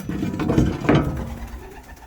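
Pigeons kept in a loft coo in a short burst of low, throaty calls, close and fairly loud, then fade into quiet background.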